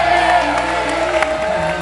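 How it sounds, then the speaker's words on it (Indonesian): A studio audience at an Indonesian talk show claps, cheers and whoops in a dense, loud, continuous burst of crowd noise. "Tepuk tangan dong untuk fakta nyata dari ini."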